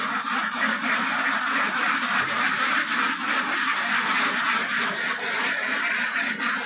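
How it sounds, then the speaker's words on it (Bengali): A flock of ducks on a duck farm quacking continuously and loudly, dense overlapping calls with no pauses, close by. "হাঁসগুলো দেখতে খুব সুন্দর লাগছে"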